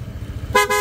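A dual Pia horn fitted to a motorcycle blasts two short, loud, bright honks near the end, after a low idling rumble.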